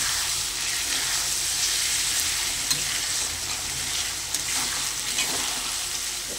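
Tehari, a spiced rice dish, cooks slowly on a low flame with a soft, steady sizzle and gentle bubbling that run continuously. A few faint clicks are heard, and no one speaks.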